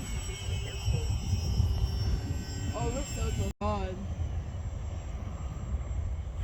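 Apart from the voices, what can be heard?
AeroScout S 2 RC airplane flying overhead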